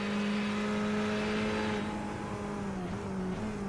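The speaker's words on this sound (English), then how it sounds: "Changes down to first for a second there, really kicks the revs up, spikes them and floors it to get a good punch off the corner." A race car engine at Donington in a sim racing session screams at high revs, holding a steady loud drone with a brief dip and pitch shifts as it downshifts and powers out of a corner.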